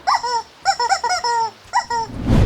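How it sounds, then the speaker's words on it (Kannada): A squeaky rubber chicken dog toy gives several sharp, high-pitched squeaks in quick bursts, close and loud, followed by a rising rush of noise at the end. "ಪಿ ಬಿ ಬಿ ಪಿ ಅಂತ ಸೌಂಡ್ ಮಾಡ್ಕೊಂಬರ್ತಾರೆ. ಎಲ್ಲ ಡಾಗ್ಸ್ಗೂ ಇದು ಫೇವ್ರೆಟ್ ಟಾಯ್"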